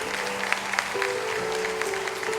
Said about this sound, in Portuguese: A gente pode dar uma salva de palmas para esse momento lindo?